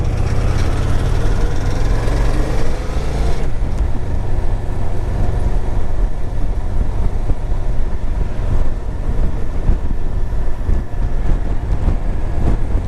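A 2005 Kawasaki Vulcan 800 motorcycle engine runs steadily at close range, a loud continuous low rumble that drops slightly in pitch after a few seconds and then holds a steady idle.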